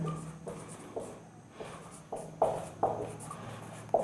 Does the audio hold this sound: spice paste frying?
no